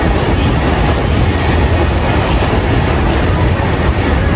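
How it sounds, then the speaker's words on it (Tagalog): A train stands at Okachimachi Station in Tokyo, giving off a loud, steady rumble that fills the whole stretch evenly with no breaks and no voices. "Ayan, may tren na nakastop."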